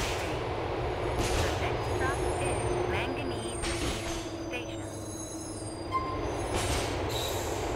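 A subway train runs in Grand Theft Auto IV with a steady rolling rumble of wheels on track, occasional squeals and clanks, and a constant loud mechanical drone throughout.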